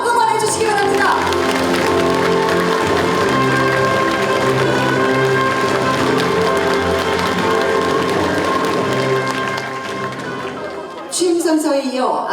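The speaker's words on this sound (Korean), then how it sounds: "앞으로 이 모든 목표가 이루어질 수 있도록 국민 여러분의 마음을 모아 더 힘찬 박수로 응원해 주시기 바랍니다." Crowd applause at a county governor's inauguration ceremony in Uljin, loud and sustained with music playing underneath, fading briefly near the end before a final burst.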